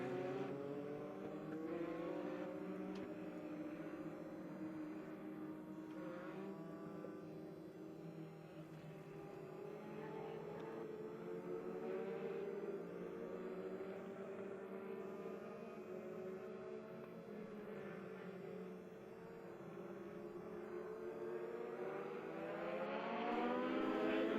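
Race cars circle Monett Motor Speedway on a caution lap before the green flag, their engines a continuous droning, rising and falling hum from a distance, swelling louder near the end.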